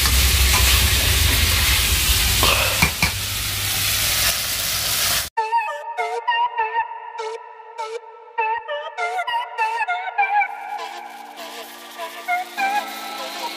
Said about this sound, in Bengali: তো মাংসটা আমার ভালোভাবে ভেজে নেওয়া হয়ে গিয়েছে, এবারে আমি রসুনটা দিয়ে দিলাম